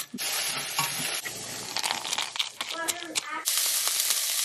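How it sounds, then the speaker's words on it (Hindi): Urad dal vadis sizzle as they fry in a pan during home cooking of Bengali food, with steady close hiss, stirring scrapes and some voices in the background. "सबसे पहले हम वड़ियों को फ्राई कर रहे हैं उरज दाल की वड़ी है ये"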